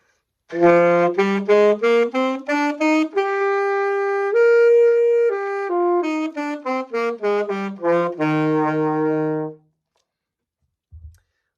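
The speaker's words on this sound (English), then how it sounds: "touch your tongue to the tip of the reed. That will sound like this." A saxophone plays a run of short, tongued, crisply separated notes climbing up, holds a few longer tones at the top, then steps back down in detached notes.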